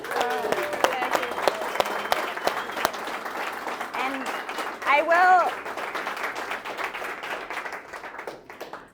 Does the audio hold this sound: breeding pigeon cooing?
no